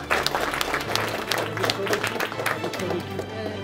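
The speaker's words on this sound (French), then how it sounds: "On peut l'applaudir." A crowd at a political rally in Moselle applauds the mayor, with bursts of clapping and cheering mixed with a raised voice and crowd noise throughout.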